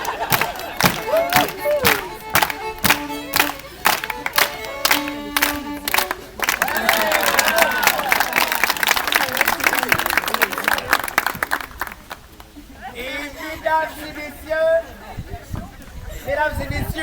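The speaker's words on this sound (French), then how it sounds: "Véronique, on l'applaudit." An audience at a live contest show gives a contestant a sustained burst of applause and cheering. Scattered claps and a host's voice come first, and talk resumes as the clapping fades.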